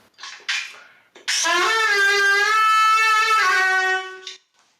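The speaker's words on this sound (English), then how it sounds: "this is the Shehnai, and the Shehnai sounds like this." A shehnai, a reedy, nasal Indian wind instrument, plays one sustained, slightly bending note after a couple of short breathy notes, close and clear, then stops.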